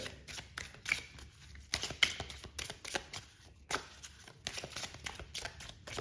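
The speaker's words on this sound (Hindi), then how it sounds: "Let me just pull one more card here." Tarot cards shuffled and pulled from a deck, giving a run of quick papery riffles and flicks at fairly close range, steady through the whole stretch with short pauses between bursts, and nobody speaks over it.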